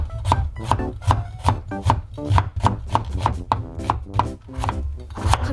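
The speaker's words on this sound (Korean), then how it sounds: "먼저 양파 썰어줍니다." A knife chops onions on a board in a fast, regular run of sharp thuds, about a dozen strokes, close and clear with no speech.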